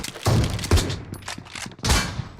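Gunfire in the mobile game PUBG Mobile, a few loud broadband bursts in quick succession over about two seconds, sharp and close, with no talk.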